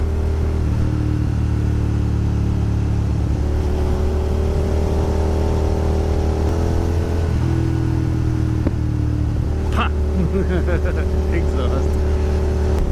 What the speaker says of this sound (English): just flip the throttle real quick and let the clutch out semi-quickly